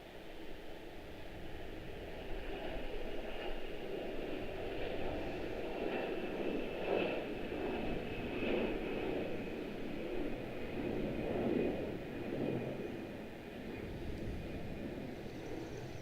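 A GoJet CRJ jet airliner departing Washington Dulles for Philadelphia, a sustained broadband engine roar with a faint whine, steady and moderately distant.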